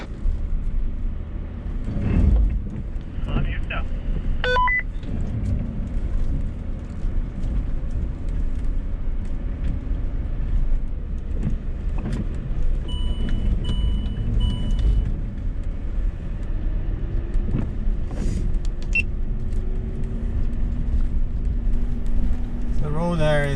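A Land Rover Discovery 3 climbs a soft, muddy road uphill in third gear, high range, while overlanding in Norway, with a steady low engine drone and occasional bumps, and people talk over it.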